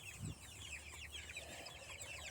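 Meat chickens cluck and chatter as a flock while being moved, a busy layer of overlapping calls over a steady outdoor background.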